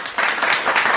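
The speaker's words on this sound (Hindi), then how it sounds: "जोरदार तालियों के साथ स्वागत करते हैं जीतू कारीगर का" Loud, close applause from a small group welcomes a trekking companion on a Manali Hampta Pass trek, a brief burst of brisk clapping lasting about a second.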